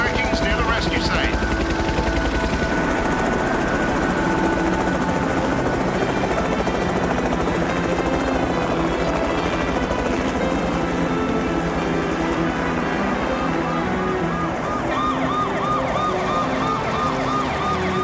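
A helicopter flies overhead with a steady, loud rotor roar that fills the scene, mixed with a siren-like wail and other dramatic sound around it.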